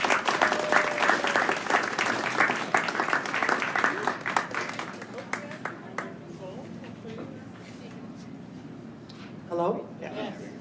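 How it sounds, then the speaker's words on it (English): Audience applause from a crowd at an evening science café talk in a pizza restaurant, loud sustained clapping that fades out over several seconds, with a voice speaking faintly near the end. "please give a big round of applause for Peggy Turk-Boyer"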